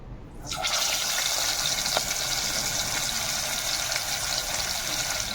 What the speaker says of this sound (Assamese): দেখিছে এতিয়া মাছ ফ্ৰাই কৰি আছোঁ।